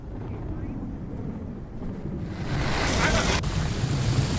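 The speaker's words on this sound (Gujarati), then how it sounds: "દ્વારકામાં ધોધમાર વરસાદ વરસી રહ્યો છે" Heavy monsoon rain roars in Dwarka, Gujarat, in a steady broadband wash, growing louder partway through, with gusty wind-like noise over the microphone.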